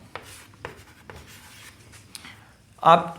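A pen writes by hand on paper during a maths lesson, faint scratchy strokes and a few light taps close by, ending with a brief spoken word.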